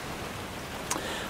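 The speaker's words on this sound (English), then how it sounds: "The rain's come on, and I'll just shut this door." Light autumn rain setting in across the Trossachs hills of Scotland, a soft, steady, faint hiss with a single small tick near the end and no voices.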